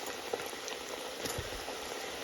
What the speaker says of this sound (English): It will come back up to temperature and it will crisp them and we'll cook them. Or I should say fry them.